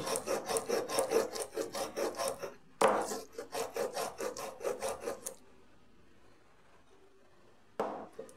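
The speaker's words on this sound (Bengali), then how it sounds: "এইভাবে ঘন্টা দুয়েক ভিজিয়ে রেখেছি পোস্ত, ভিজিয়ে বেটে নিচ্ছি" Soaked poppy seeds are ground into paste with fast, rhythmic scraping strokes of stone on stone, close and distinct. Two bursts of strokes are followed by a quiet pause and a final brief stroke, with no talking.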